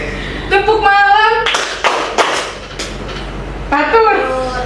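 A classroom clapping game, with a group of students clapping a few sharp rhythmic bursts between a teacher's spoken calls.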